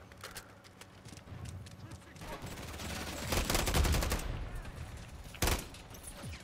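Gunfire in a shooter video game, a loud burst of rapid automatic shots building to a dense rattle amid game noise, then a single sharp crack, with faint talking in the background.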